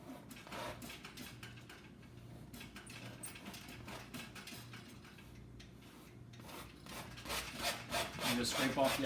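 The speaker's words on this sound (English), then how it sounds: "All I'm doing here is just scraping off all the excess paint." A painting knife scrapes excess wet oil paint off a canvas in steady, rasping strokes, close and fairly quiet, growing louder toward the end with no talk.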